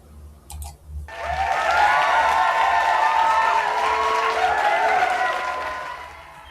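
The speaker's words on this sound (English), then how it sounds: "And the crowd goes crazy." Crowd applause and cheering swell up after a brief quiet click, a loud sustained roar of clapping with whoops and shouts that holds steady, then fades toward the end.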